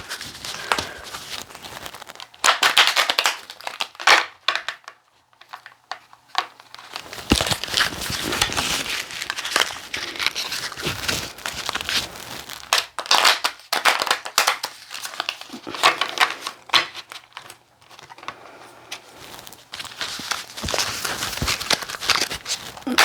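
A deck of tarot and oracle cards is shuffled by hand in repeated bursts, giving close crisp riffling and papery rustling broken by brief pauses, with no one talking.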